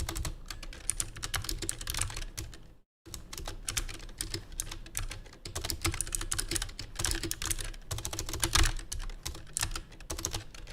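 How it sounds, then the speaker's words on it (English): Rapid, continuous typing on a computer keyboard during a live coding session, dense clattering keystrokes heard up close with one brief pause and no speech. "My typing is so bad."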